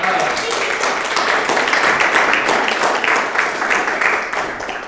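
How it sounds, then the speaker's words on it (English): An audience at a comedy and variety show gives the performers another round of applause, a loud, sustained wash of clapping with some cheering voices mixed in, holding steady before easing off near the end. "We can give them another round of applause."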